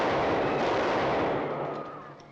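A burst of gunfire from a firing-squad execution in a 1949 black-and-white thriller set in Revolutionary France, a dense loud blast that rolls and fades out over a couple of seconds, with no voices.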